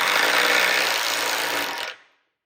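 Power tool driving screws into metal hurricane brackets, a single steady whirring burst of about two seconds that cuts off abruptly, loud and close with no talking.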